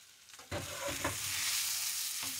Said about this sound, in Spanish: ya está como tostadita la cebolla, acitronada, y el ajo ya está un poquito más así. Entonces voy a agregar las papas.